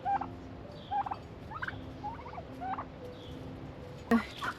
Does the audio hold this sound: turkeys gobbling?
yes